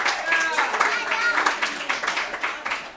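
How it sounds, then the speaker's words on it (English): A restaurant crowd claps and cheers for a boys lacrosse head coach, dense irregular clapping mixed with voices and whoops, close and fairly loud throughout. "Please give him a round of applause,"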